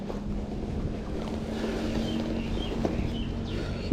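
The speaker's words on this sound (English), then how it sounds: "It's a little windy today." Outdoor wind blows steadily across the microphone during a drone flight, a continuous low rumbling buffet with no speech.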